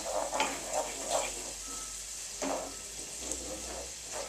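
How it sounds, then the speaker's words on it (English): Already-cooked shrimp warming in a pan, a soft steady sizzle with a few gentle stirring scrapes and clinks at intervals, fairly quiet and close, with no voices. "I'm just warming through the shrimp right now"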